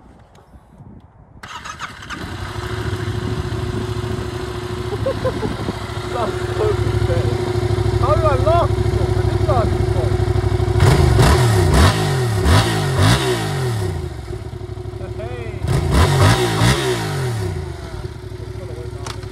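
A Yamaha MT-07 motorcycle on its stock exhaust starts up and idles with a steady low drone, then gives two bursts of sharp revving. A voice talks and laughs over it now and then.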